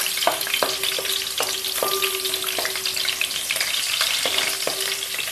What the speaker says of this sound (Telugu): ముందైతే పచ్చిమిరపకాయలు వేసుకుందాం